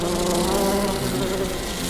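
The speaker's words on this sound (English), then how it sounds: "I'm a bee, and I bumbled my way into your car." A bee buzzing sound effect plays as one loud, continuous droning buzz, steady and close, with no talk over it.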